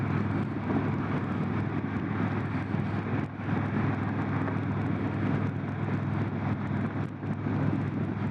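A 2021 Indian Roadmaster Limited motorcycle cruising at 60 mph near 2,500 RPM, heard as a dense, constant engine drone mixed with heavy wind rush and no clear breaks.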